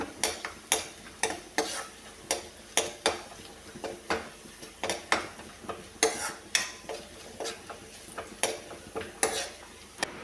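Onions browning in a pan for a drumstick-leaf curry, with a steady low sizzle and repeated sharp scraping clicks of a spatula stirring against the pan in an even rhythm, close and clear with no talk.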